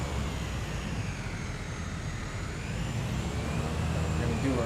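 A bush plane's engine drones steadily while it turns on the ground in Microsoft Flight Simulator, set in Iceland, a continuous broadband hum at even loudness throughout.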